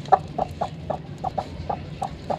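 A hen sitting on a clutch of eggs gives soft, evenly spaced clucks, about eight short notes in a steady rhythm, close and fairly quiet with no talking.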